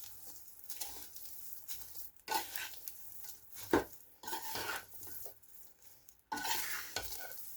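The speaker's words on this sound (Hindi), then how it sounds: "इन चीज़ों को मिक्स कर लेंगे अच्छे तरीके से अब।" Moong dal panjiri with white sesame, poppy seeds and edible gum is stirred and mixed in a pan: quiet, uneven scraping strokes, soft patters and occasional clinks of a spoon against metal, with no talking.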